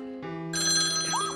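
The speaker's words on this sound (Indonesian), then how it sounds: "Lalu terdengar dering telepon umum di dekat mereka" A public payphone rings in a film scene, a clean electronic ringing tone that starts softly and then grows louder and brighter, heard alone with no voices.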